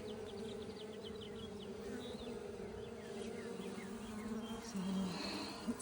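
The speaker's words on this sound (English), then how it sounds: "Lots of bees in here." Honeybees buzz steadily around the entrance of a backyard hive, a faint, dense drone with individual insects flying close by and passing away again.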